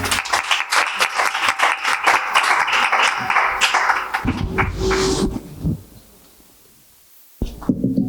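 Applause greets Kamran Lashari as he is called up to give the welcome address at a mushaira held at his house, a dense burst of clapping that fades out, with a brief pause before another sound begins.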